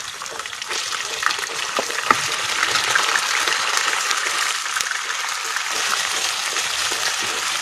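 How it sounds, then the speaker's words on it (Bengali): Mutton pieces fry in hot oil in a pot, giving a broad, continuous hiss and sizzle that stays fairly loud and even, with a few faint clicks. "মাংসটা এখন তেলের উপর কিছুক্ষণ ভাজবো।"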